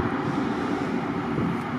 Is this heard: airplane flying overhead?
yes